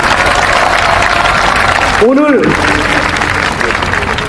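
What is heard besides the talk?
crowd applauding at a rally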